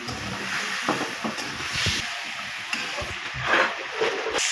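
Fried vegetables tipped into a pan of simmering pumpkin curry, a steady frying sizzle and hiss with scattered clatters and stirring scrapes, close and moderately loud.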